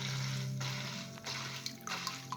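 Water splashing steadily from a cascade-style aquarium filter as the flow starts to spill over, a close, continuous trickle with a low hum underneath.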